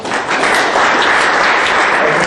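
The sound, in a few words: audience applause for panel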